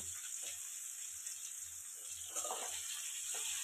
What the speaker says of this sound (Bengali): এই যে ফুলকপিটা ভেজে নিই, ফুলকপিটা ভেজে নিয়ে তরকারিতে আলুটা চাপিয়ে দেবো